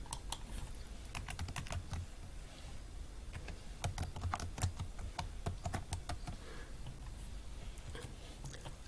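Quick, irregular clicks of keys being struck on a computer keyboard as an email and password are typed, close and fairly quiet, with short pauses between bursts.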